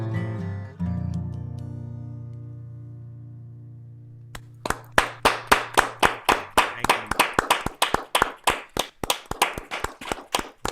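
At a holiday showcase concert, a held final musical chord fades out, then a small audience breaks into applause, scattered crisp claps at first that quickly build into quick, close, steady clapping.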